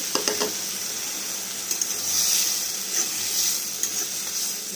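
Small fish with tomato sizzle and fry in an iron wok, a steady crackling hiss broken by a few sharp stirring scrapes and clinks, close and without talk.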